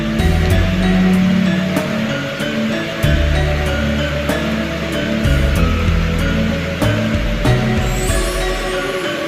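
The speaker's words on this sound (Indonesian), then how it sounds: "Di dekat tempat sembahyang ini kita bisa melihat ada sebuah pancuran air yang bersumber dari sungai" Water pouring steadily from a bamboo spout fed by a river beside a prayer place at a General Sudirman guerrilla memorial site in Nganjuk, a continuous close splashing rush with a few sharp clicks on top.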